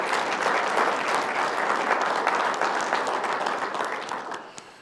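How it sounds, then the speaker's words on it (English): A steady, dense round of applause from a civic audience at a village state-of-the-address event, sustained and fairly loud throughout before tapering off at the end, with no talk over it. "So if we could just give her a round of applause for her service."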